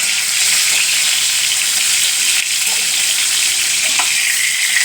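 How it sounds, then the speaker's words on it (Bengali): Pointed gourds (potol) fry lightly in oil in a pan, giving a close, steady, bright sizzle with faint stirring sounds and no talk. "এই পটলগুলোকে একটু হালকা ভেজে নেব"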